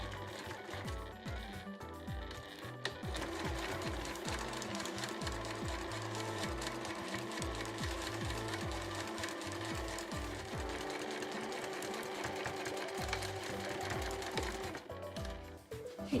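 A sewing machine stitches along the edge of a large cotton drawstring backpack, a fast steady mechanical chatter running almost continuously, close and clear, with brief pauses near the start and end.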